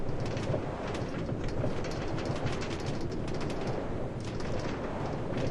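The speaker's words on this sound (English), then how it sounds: "I like the railway sign. Not the railway sign, the railway sounds. They're excellent." A Minecraft minecart rolls along a railway track, giving a steady, continuous rumble with faint clicking throughout, close and fairly loud with no talking.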